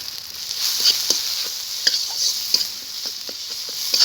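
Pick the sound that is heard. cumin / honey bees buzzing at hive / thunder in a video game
cumin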